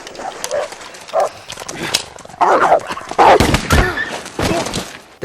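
A dog chase scene from the film No Country for Old Men, with a dog barking in loud repeated bursts amid thumping footfalls and movement, mixed with voices.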